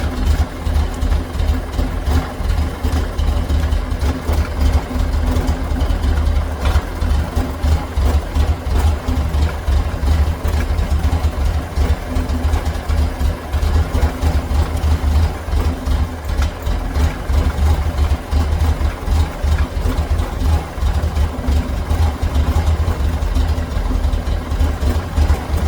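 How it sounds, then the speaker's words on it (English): A 1600 VW Beetle engine with a 34 PICT3 carburetor idles steadily, loud and close, a continuous low rumble with a fast even pulse and no voices. "So let's get the engine so that it's running at about 900"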